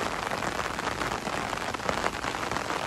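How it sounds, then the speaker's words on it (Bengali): Heavy rain pours steadily onto surfaces near a forest, a dense unbroken hiss of drops at constant loudness with no voices. "এখানে দেখার কিছু নাই কারণ খুব বৃষ্টি হচ্ছে"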